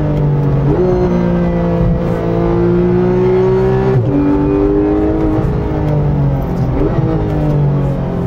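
A Porsche 911 GT3 (991.1) engine revs hard and climbs in pitch, dropping sharply at each gear change with a jolt before rising again, loud and close throughout.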